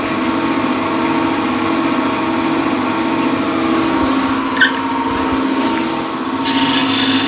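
A bowl gouge cuts wood on a lathe, producing a steady, loud, continuous whir and hum with a faint scraping edge that rises slightly near the end.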